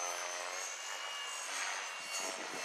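A Blade 230S radio-controlled helicopter flies outdoors in wind, its rotor and motor giving a steady high whine and whir that holds at an even, moderate level with no talking.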